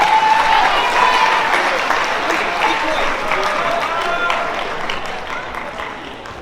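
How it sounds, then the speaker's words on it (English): A crowd claps in sustained applause, loud at first and gradually tapering off, with a few voices mixed in. "give him a round of applause"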